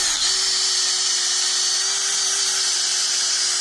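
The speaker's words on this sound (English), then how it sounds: "Hit them with the wire wheel." Wire wheel spinning on a power tool against steering knuckles from a Jeep XJ, a loud, steady high-pitched whine with a constant tone held throughout, close by and with no talk.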